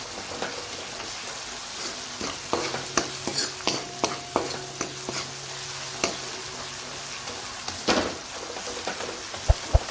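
Spice masala roasts in a pan with a continuous sizzling hiss and repeated scraping stirs and taps of a spoon against the metal, ending with two sharp knocks.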